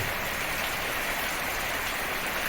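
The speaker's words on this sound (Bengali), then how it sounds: "খুব সুন্দর বৃষ্টি," Night rain falls steadily in an even, fairly faint hiss of drops with no voices.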